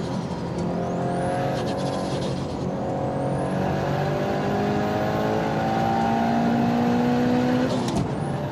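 Subaru WRX STI race car, 500 horsepower and 1480 kg, accelerating hard around the Tsukuba circuit, its engine note climbing through rising harmonics across gear changes, loud and continuous close by.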